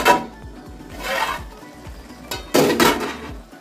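A metal lid set onto a cooking pot of boiled taro leaves makes clattering metallic knocks and scrapes, ending in a louder clank near the end, close and with no voices.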